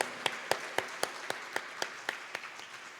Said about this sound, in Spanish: Un fuerte aplauso a nuestro Señor, hermanos.